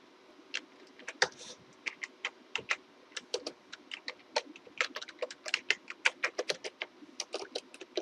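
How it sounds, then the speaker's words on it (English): Someone types a message on a computer keyboard: crisp, distinct key clicks at an uneven pace, growing denser toward the end, heard alone in a quiet room. "And now I will type a message."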